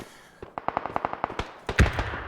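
A rapid series of sharp distant gunshot cracks from PUBG, about a dozen evenly spaced pops, followed by a louder burst and rumble.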